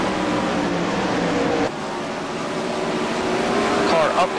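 Race cars lap Eldora Speedway in a dirt-track feature, giving a continuous loud engine roar as the field passes close by with a sharp shift in pitch midway, and a commentator's voice sits under the noise.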